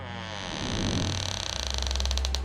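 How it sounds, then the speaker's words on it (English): Garage door creaking open, a loud, drawn-out grinding creak with a rapid mechanical rattle toward the end, close and alone with no voices. "William suddenly heard the garage door creak open as Allison stepped inside, staring at him."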